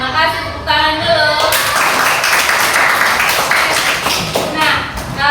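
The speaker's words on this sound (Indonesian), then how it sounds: "tepuk tangan dulu" Classroom students clapping together in a lesson, loud and close with brisk, dense claps, and a teacher's voice speaking over parts of it.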